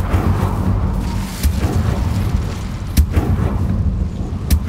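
An Incendio fire spell being cast in Hogwarts Legacy brings three sharp, booming fiery bursts spaced about a second and a half apart over a low rumbling bed, loud and close with no speech.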